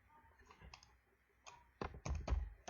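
Keystrokes on a computer keyboard, a few sparse light taps at first, then a quick run of louder, closer clicks near the end, with no talking.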